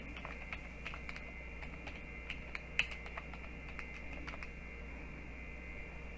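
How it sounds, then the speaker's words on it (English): Quiet keystrokes on a computer keyboard, a run of light irregular clicks against a low steady background hum, with one sharper tap near the middle. "we're going to type in here where it says untitled previous conference"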